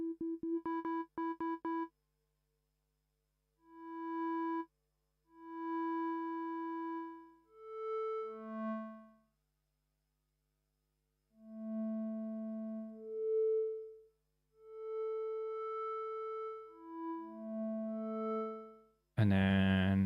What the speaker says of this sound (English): Maybe we'll go with like an old-fashioned analog flute or whistle type sound.